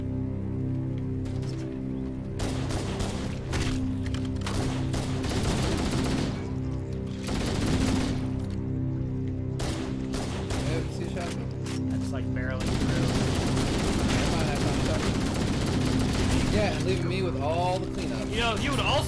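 Repeated bursts of gunfire in the video game Halo recur across the stretch beneath a constant game soundtrack and the chatter of players talking throughout.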